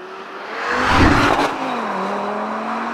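A 2022 Audi RS3 with its turbocharged five-cylinder engine revs hard once, swelling to a loud peak and easing back into a steady, throaty hum, close up with no talking.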